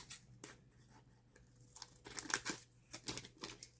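A piece of paper printed with historical information being cut by hand, soft crisp snips and rustling, faint and close, in irregular bursts growing busier toward the end.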